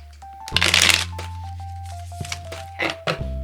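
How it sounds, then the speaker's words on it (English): A deck of cards is riffled in one quick burst, followed by soft tapping and squaring of the cards, close by, with a steady hum underneath. "I'm gonna give one quick shuffle."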